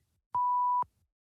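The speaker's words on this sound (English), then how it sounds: "You've got to say the profane word so that beeping it out has effect, Flair." A single steady censor bleep, about half a second long, covers a swear word during a sports talk show, loud and alone between quiet moments.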